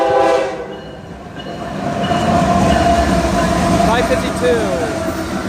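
An intermodal freight train rumbles past close by, steady rolling wheel noise, with a harsh horn at the start and a short horn burst later, while people talk excitedly over it.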